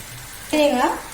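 Okra (vendakka) pieces dropped into a hot pan, setting off a sudden loud sizzle that swells briefly and then settles into a steady frying hiss.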